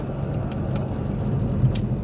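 Interior of a classic Mini converted to electric drive, running laps: a low steady road rumble and cabin hum with a couple of faint ticks, continuous and close, no engine note and no voices.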